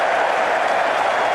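A cricket crowd at a one-day international in Durham, England against Australia, applauding and cheering a shot, with a dense, steady roar of clapping and voices throughout.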